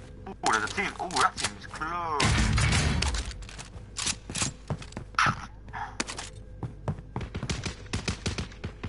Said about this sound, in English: Why do I hear gunshots really close?